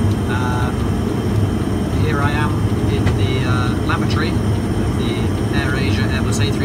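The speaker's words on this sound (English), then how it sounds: "Here I am in the lavatory of the AirAsia Airbus." A loud, steady broadband roar of engine and air noise fills the lavatory of an AirAsia Airbus A320 in flight, with a voice faintly audible over the drone.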